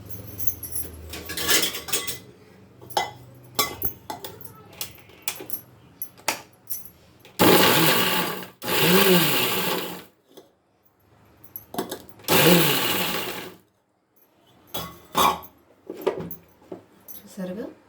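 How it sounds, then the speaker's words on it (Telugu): A kitchen mixer grinder pulses red chilli paste with salt in two loud, whirring bursts of a few seconds each, set among clinking utensils and a voice talking. "దీన్ని మిక్సీకి వేస్తున్నాము."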